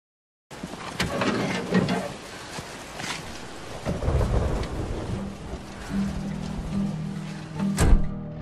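Heavy rain pours steadily while thunder rumbles and cracks several times, with a deep boom near the end, in a Wolfenstein: The New Order cutscene.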